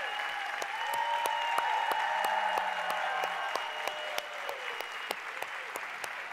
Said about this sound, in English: I want to give them their long overdue round of applause